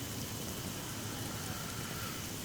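Steady rain falls outdoors in a dense, even hiss, a constant wash of drops heard alone with no voices, moderately loud and unbroken throughout.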